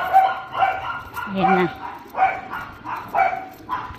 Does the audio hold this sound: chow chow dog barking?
yes